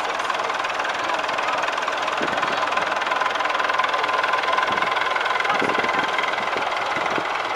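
An International 434 tractor engine from 1986 idles steadily and loudly at a vintage tractor rally, a continuous low rumble with a few faint knocks, no voices.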